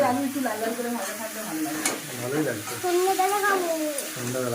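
Meat browns and stir-fries in a pan at home, a close sizzle with stirring scrapes, while a voice talks over the cooking throughout.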